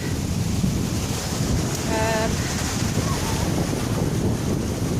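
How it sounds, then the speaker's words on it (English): Rushing river water at a river crossing on a hike to a Scottish bothy, a loud, steady broadband wash with wind buffeting the microphone throughout and a brief tonal squeal midway. "Now here's the river crossing."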